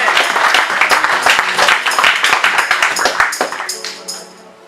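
A church convention congregation applauding, with dense rhythmic clapping from many hands mixed with voices and cheering, loud and close, then fading toward the end.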